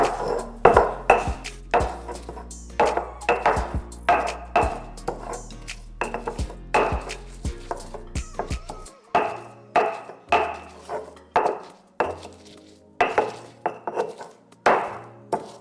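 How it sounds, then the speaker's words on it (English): Basil and a pinch of salt are pounded with a pestle in a mortar, giving a steady series of sharp, knocking thuds about once or twice a second, close and clear with no talking. "we're using the pestle and mortar because that's gonna bring out the oils in the best, most freshest way"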